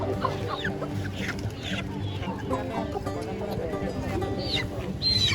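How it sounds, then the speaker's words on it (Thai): Chickens cluck and squawk continuously at a busy morning market in Thailand, with overlapping calls close by and people chattering in the background. "กองไก่"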